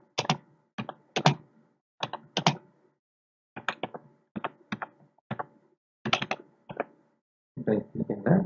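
Bursts of typing on a computer keyboard while filling in a Google Forms registration form, with quick clusters of key clicks separated by short pauses, close and clear.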